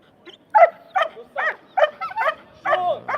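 Dog at a Mondioring championship giving a string of loud, close, yelping barks and whines, about seven bursts in irregular rhythm.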